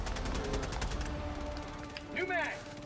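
Machine gun fire at bugs in Helldivers 2, a rapid repeating burst over the first second, then chirping creature and game sounds with voices talking throughout.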